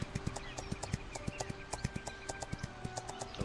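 Steady, rhythmic clip-clop hoofbeats from a horse mount trotting along in the online game Astellia, close and clear with no talking.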